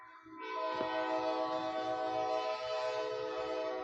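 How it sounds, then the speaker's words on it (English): The Music City Star commuter train from Nashville passes at night with a steady, sustained rumble and horn-like tones. It is fairly distant and continuous. "You don't hear a train this time of night, but guess what? That's coming from Nashville,"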